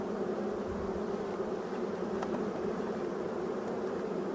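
Honeybees humming steadily and close as a spring split colony is housed in a new hive at an apiary, a continuous dense buzz with no talk.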